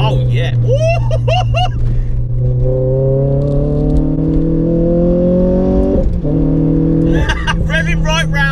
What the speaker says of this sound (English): Revving right round to